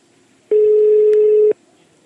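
One loud, steady phone ringback tone sounds from a dialed call, lasting about a second and standing alone against a quiet line before and after.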